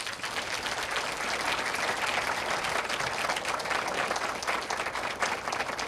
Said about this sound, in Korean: 지난 34년간의 성과와 함께 명예로운 퇴역을 맞이하는 장보감을 위해 다시 한번 큰 박수 부탁드립니다.